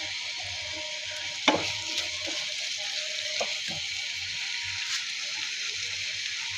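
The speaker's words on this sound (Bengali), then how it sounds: "পেঁয়াজের সাথে টমেটো এরকম করে ভেজে নিয়েছি" Tomato and onion fry in a pan for a small shrimp bhuna, a steady close sizzle with a few sharp clinks and stirring knocks against the pan, and no talking over it.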